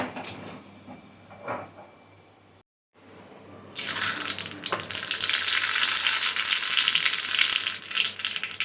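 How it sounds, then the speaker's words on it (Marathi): Hot tempering (phodni) is poured into a cooled buttermilk dish (mattha), giving a brief gap and then a sudden, loud, continuous sizzle that hisses steadily until the end, with no talking. "आता फोडणी घालूया आपण याला"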